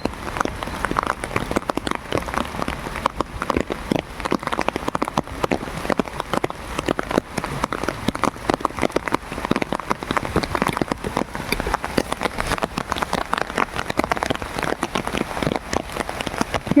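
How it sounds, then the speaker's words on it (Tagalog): Heavy rain pours down steadily and loudly, a dense, continuous hiss of drops pattering on surfaces with no break in intensity. "sobrang lakas ng ulan"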